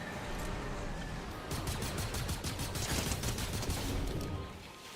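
Rapid bursts of video game gunfire crackle in a dense fusillade for a few seconds over a steady background hiss, then fade out, with no talking.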